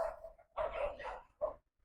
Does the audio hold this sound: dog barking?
yes